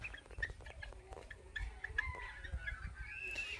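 A white Polish chicken, about five months old, clucking steadily in a farm pen, short calls repeating at close range over a low rumble, with other birds faintly around; no voices.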